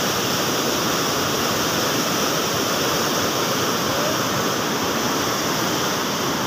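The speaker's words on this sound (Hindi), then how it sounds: "पानी का प्रेशर बहुत है" High-pressure water rushes loudly and continuously during rain, a dense, roaring torrent like a stream or weir flow, close and unbroken, with no talking.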